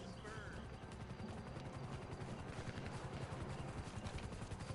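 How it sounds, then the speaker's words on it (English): Helicopter in the video game GTA V, its rotor thrum forming a steady dense drone under continuous gunfire and game noise, with voices talking over the mix throughout. "comes a chopper."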